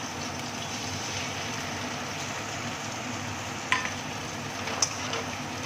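Chilli egg fish mixture frying in a pan on a gas stove, with a soft continuous sizzle and two brief scraping knocks as it is stirred, fairly quiet.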